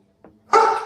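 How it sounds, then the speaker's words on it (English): One protective dog gives a single sharp, loud bark close by, preceded by a brief soft huff. "your dog gets all fired up"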